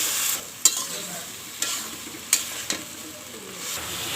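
Sliced pointed gourd and potato frying in a pan with turmeric paste, salt and chili powder, a steady sizzle broken by a few sharp spatula scrapes and clinks as the vegetables are stirred.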